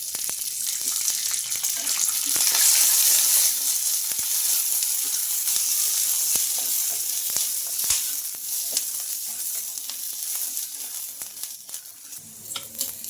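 Green chilies fry in oil in a pan, a steady loud sizzle with crackling pops throughout, no voices, while semolina idli batter components are prepared.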